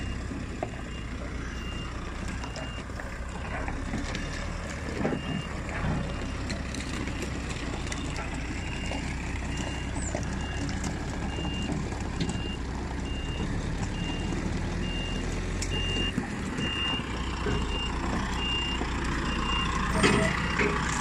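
A lorry reverses with its repeating reversing beeper sounding steadily throughout, over a continuous low engine rumble and outdoor background noise; no talk is heard.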